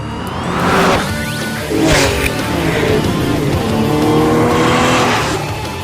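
A 3.8-liter Porsche 991 Carrera S being driven hard, its engine revving up and falling back in loud, close surges with tire squeal rising between gear changes.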